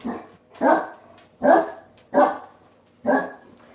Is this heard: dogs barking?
yes